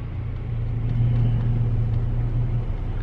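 Cars passing on a two-lane road heard from inside a stopped vehicle, a close, low engine and tyre rumble that swells slightly in the middle and stays steady.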